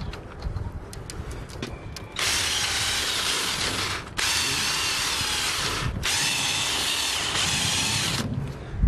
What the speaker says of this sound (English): And it just drills that part out.